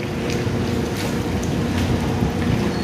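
Strong wind roars across an open sea, gusting against the microphone while water rushes and slaps around a moving boat.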